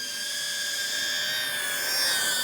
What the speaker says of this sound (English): For such a small drone, it makes noise.